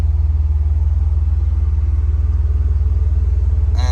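A DeLorean time machine replica cruising around Las Vegas gives off a deep, pulsing engine rumble, loud and close, throbbing evenly throughout from inside the car.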